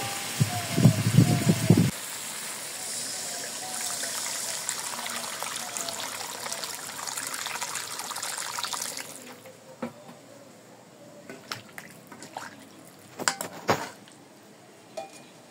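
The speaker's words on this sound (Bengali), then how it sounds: "বন্ধুরা মরিচের গুঁড়ো দিয়ে আরো কিছুক্ষণ কষিয়ে নিয়েছি, এখন জল দিয়ে দিব।" Water pours into a simmering fish curry of sarputi fish and tomato, a steady splashing trickle for several seconds that fades into light bubbling and a few clinks, with no talking.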